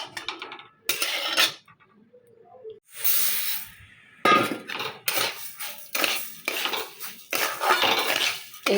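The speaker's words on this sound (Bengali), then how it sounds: "এখন এর মধ্যে চালটা দিয়ে চালটা নাড়তে থাকবো।" Rice grains are stirred in salt water in a metal pan on a gas stove while making puffed rice, producing loud, close, repeated scraping and rattling bursts with short pauses between them.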